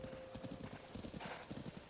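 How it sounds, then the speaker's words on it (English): A horse's hooves clip-clop in a steady trotting rhythm in Zelda: Tears of the Kingdom, with game sounds faint underneath. "You're a good horse."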